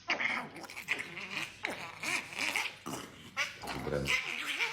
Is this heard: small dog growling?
yes